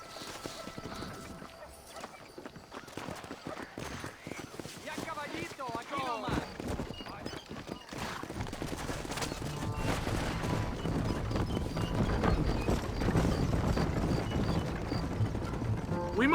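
Horse hooves clip-clop and gallop in the Red Dead Redemption video game, a steady rhythmic patter under a dense, rising bed of game sound and music that grows louder toward the end.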